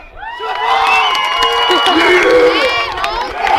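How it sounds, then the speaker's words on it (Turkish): Loud cheering, shouting and whooping from a high school festival crowd, a sustained roar of young voices mixed with applause lasting several seconds, close and energetic throughout. "Alkışlar."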